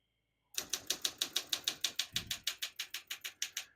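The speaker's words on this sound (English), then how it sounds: "I'm just going to keep it on single and finish typing." Keystrokes on a 1965 Olympia SM9 portable typewriter, a quick even run of about sixteen crisp mechanical clacks that starts after a brief silence, close and clear with no voices.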